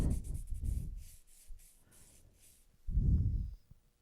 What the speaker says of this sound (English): Buff the entire nail, nice long strokes.